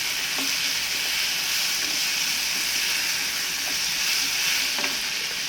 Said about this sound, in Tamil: நல்லா ஒரு மிக்ஸ் பண்ணிடுவோம்.